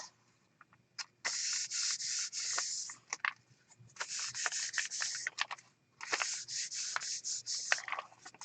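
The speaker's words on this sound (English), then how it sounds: "it helps to rub the print below" A paint print in a mixed-media piece is rubbed by hand against paper, giving dry, close scrubbing strokes in quick repeated bursts with brief pauses between runs.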